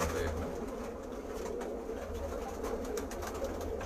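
Kabuli high-flying pigeons coo softly and continuously in a breeder's loft, a low murmuring bird chorus over a steady background hum with no talking.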